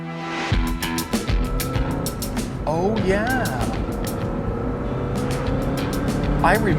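A 1999 Mazda MX-5 Miata NB, first year of the second generation, drives with a steady engine drone and rising gear-change whines, heard from inside the car as people talk over it.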